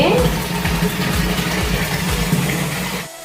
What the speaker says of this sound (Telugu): ఇప్పుడు నేను డబర్ నిండా అనేది వాటర్ పట్టుకుంటున్నానండి